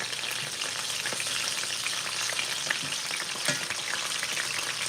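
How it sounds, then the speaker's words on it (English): Miso lingonberry salmon searing in a hot pan makes a loud, steady frying sizzle with occasional spits and pops, continuous and close, with no voices over it. "Look at that beautiful sear on there."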